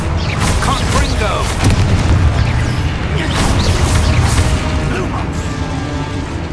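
A Confringo fire-spell explosion in the Hogwarts Legacy video game booms and crashes repeatedly in a dense, loud sequence of blasts and impacts, with spoken voices mixed in.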